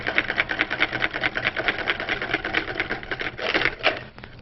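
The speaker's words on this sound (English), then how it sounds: "Just whisking that up right away." A whisk beats rapidly against a bowl while mixing a zesty salad dressing, making a steady fast rhythmic clatter that stays close and fairly loud throughout.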